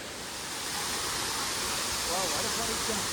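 Hanumana Gundi waterfall gives a continuous loud roar of rushing water, a dense even hiss that holds steady throughout.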